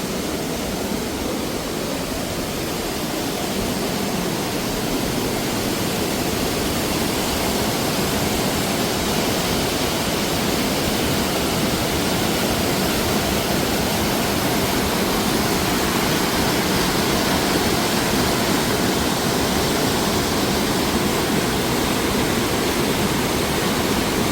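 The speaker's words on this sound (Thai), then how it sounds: "น้ำตกเล็ก ๆ เลย" A small waterfall beside a hiking trail in Berchtesgaden, Germany, gives a steady, dense rush of falling water that holds at the same level throughout with no voices.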